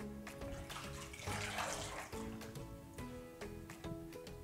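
A wig is rinsed by hand in clear water with light movements, giving a steady wash of running and sloshing water, close and continuous, with a tonal background underneath.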